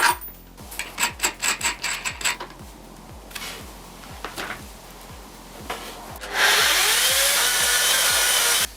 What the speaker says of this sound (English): This DIY mill uses a 2000W Makita electric saw and some simple threaded rods to get the job done.